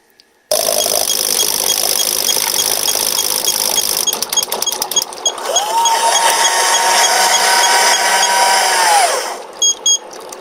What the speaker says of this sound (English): The clicking noises you heard there were all the water valves vibrating.